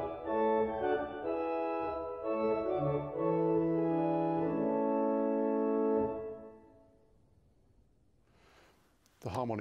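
Viscount Envoy 35-F digital church organ playing the Clarabelle flute coupled with the 4-foot harmonic flute, a smooth sustained chordal passage that fades into a quiet room tail before a short click.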